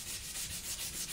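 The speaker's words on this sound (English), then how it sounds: "And now I'm gonna use this sanding pad to" Sanding pad smoothing the edge of a filed workpiece, a steady close rubbing hiss with gentle rhythmic strokes throughout, alone without talk.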